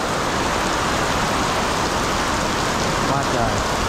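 Heavy rain driven by strong wind on a trip through the Mekong Delta region of Vietnam, a dense, loud, continuous hiss and roar of downpour that fills the whole clip without a break.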